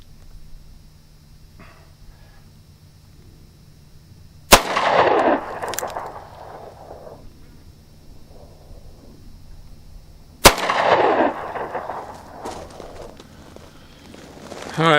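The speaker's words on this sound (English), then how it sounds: "let's put a round right up here and see what happens" Two sharp, loud gunshots from a Bearman 9mm Derringer pistol fired at close range outdoors, spaced about six seconds apart, each followed by a brief echoing decay over a quiet background.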